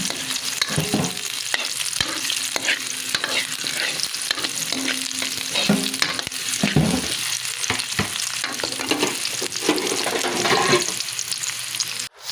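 Garlic and onion sauté in a pan while being stirred, a steady close sizzle and frying crackle running throughout, with scraping stir strokes breaking through at intervals.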